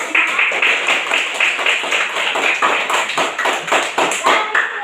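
Children in an elementary school classroom clap their hands together, a loud, close, rhythmic patter of many small hands that carries on steadily, with a few voices faintly mixed in.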